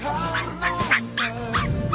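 Puppy stuck in a hole being pulled out by a Ukrainian soldier, giving short high yelps and whines in a steady broken series, fairly close and moderately loud over some background noise.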